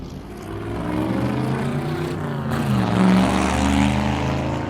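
A '57 Chevy wagon engine idling and revving steadily nearby, a deep continuous rumble that swells slightly in the middle, heard alone with no talk.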